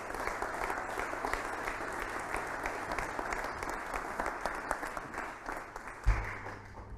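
Audience applause fills a general assembly of HEC Alumni, a steady, moderately quiet wash of many hands clapping at once, with one low thump near the end.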